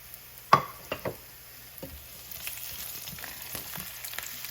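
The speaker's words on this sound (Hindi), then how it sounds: "अब इसमें हम अदरक डाल देंगे ताकि अदरक भी फ्राई हो जाए, और ये ज़ीरा और ये काली मिर्चें।" Ginger, cumin seeds and black peppercorns hit hot oil in a dal tempering, giving a sharp initial burst followed by a few pops and then a steady, quiet sizzle, close and alone.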